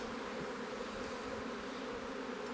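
Honeybees buzz steadily at an open hive, a dense continuous drone that stays even and close throughout, with no voices.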